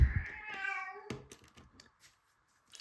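A house cat gives one drawn-out meow up close, followed by soft clicks and small handling noises of plastic LEGO bricks being sorted.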